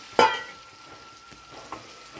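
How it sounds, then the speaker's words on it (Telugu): Chicken fries in a pan over a low gas flame, a soft sizzle with a sharp clank of a ladle against the pan and a few faint scraping stirs. "గ్యాసు సిమ్లో కొంచెం సిమ్లో పెట్టుకొని ఈ విధంగా చక్కగా వేయించుకోండి"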